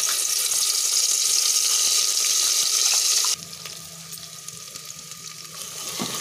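Spices and a bay leaf fry in hot oil for chana pulao, a steady loud sizzle that suddenly drops to a quieter, softer crackle partway through.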